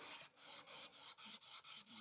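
A steel chisel rubbed back and forth on a sharpening stone to take off the burr, giving eight evenly spaced rasping strokes, close and fairly quiet with no talk.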